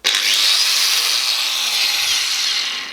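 A Milwaukee AGV 125 mm angle grinder with soft start is switched on and spins up to a loud, steady high-pitched whine, running alone for a few seconds before easing slightly at the end.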